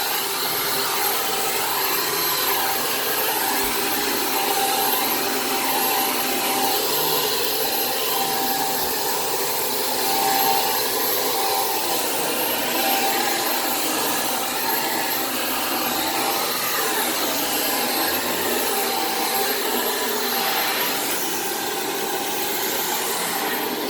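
A Shark Apex DuoClean vacuum cleaner runs on a living room carpet, a loud continuous motor whine and suction rush with slight shifts as it is pushed back and forth, no talk.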